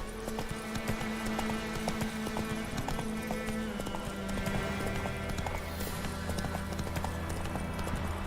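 Roach, a horse in The Witcher 3, galloping with steady rapid hoofbeats drumming close by, layered over game ambience and a faint background music bed.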